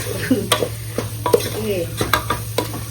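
Tomatoes sizzle in a hot pan while a wooden spoon scrapes and stirs them in repeated strokes, close and clear over a steady low hum, with no talking.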